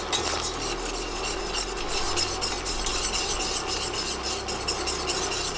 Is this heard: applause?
no